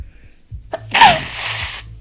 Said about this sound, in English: Oh no, I'm gonna sneeze.